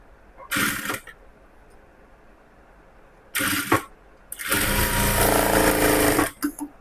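A sewing machine stitches blouse fabric in three bursts: two short runs of rapid mechanical clatter, then a longer, steadier run of stitching, with quiet pauses between them.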